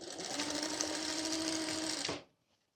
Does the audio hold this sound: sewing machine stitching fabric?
yes